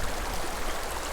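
A small creek flows with a soft, even rush and babble that stays low and steady throughout the brief stretch.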